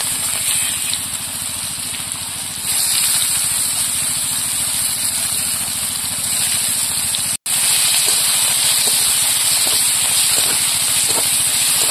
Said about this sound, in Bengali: পেঁয়াজটা ভেজে নিয়েছি